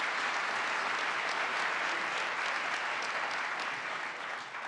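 Sustained applause from an audience at a speech by Barack Obama in Springfield, a dense steady clapping that fills the room without a break and eases slightly toward the end.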